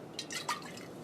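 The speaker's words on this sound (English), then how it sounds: "let me add some vinegar, some acetic acid, and see if it starts reacting again" Vinegar (acetic acid) is poured into a lab reaction, producing a few quick close drips and splashes over about a second, faint and alone.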